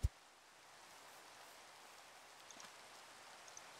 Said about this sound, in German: Es regnet, ich gehe mal schlafen.